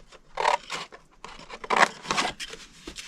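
Scissors cut through scored cardstock in a few close, crisp snips and paper scrapes, with short pauses between the cuts and no talking.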